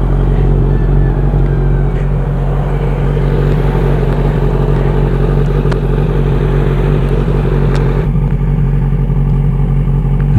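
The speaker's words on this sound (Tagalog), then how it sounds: "So ito na yung ating bagong exhaust, ang MIVV titanium, no?" A 2023 Kawasaki Z900 SE motorcycle fitted with a full Mivv titanium exhaust, running loud and close with a continuous deep engine rumble and mild revving that holds steady throughout, no speech over it.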